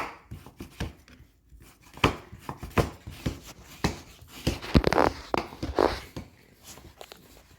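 Knife slicing through raw bacon on a cutting board for cabbage rolls, a series of crisp, uneven chopping taps and cuts, close and fairly loud, with no talking.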